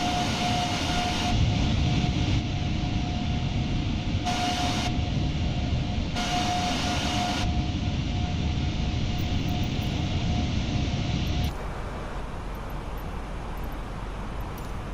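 Cockpit ambience of an Airbus A330 airliner in Microsoft Flight Simulator: a steady, loud broadband engine and air drone with a faint constant whine, shifting to a slightly quieter hum partway through, with no talking.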